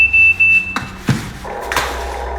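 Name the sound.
remote control pairing beep of toy excavator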